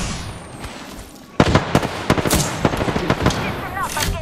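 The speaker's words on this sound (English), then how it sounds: "Grenade." A grenade explodes in Apex Legends with a sudden loud blast, followed by a rapid scatter of sharp cracks and gunfire bursts up close. A voice speaks over the firefight.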